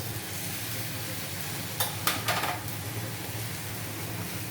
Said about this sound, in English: Add the sauce. Soya sauce,